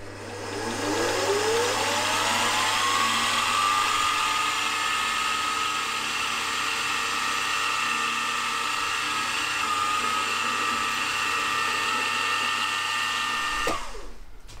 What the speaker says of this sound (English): now, first of all, I'm going to centre drill.